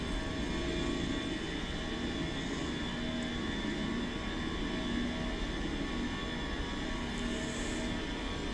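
Jet airliner on its takeoff roll in Microsoft Flight Simulator 2024, a constant engine roar with a droning hum and faint high whine, steady and unbroken throughout.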